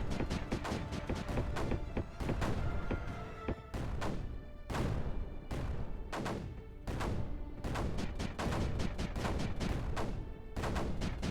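Mortars firing in the game Creeper World 4, a dense, loud barrage of overlapping booming shots in rapid succession, with only brief lulls between bursts and no talk.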